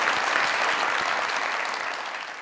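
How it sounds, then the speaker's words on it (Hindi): Audience applause for Rai Sahab on the Mazaq Raat comedy show, a dense, steady burst of clapping from a studio crowd that fades slightly toward the end. "तालियां बजाएं जरा राय साहब से"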